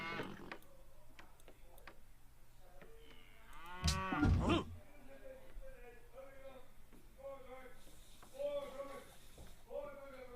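Cows moo repeatedly in the strategy game Civilization 5, several short lowing calls spread across the stretch at low level, with a louder game effect in the middle and someone talking over them.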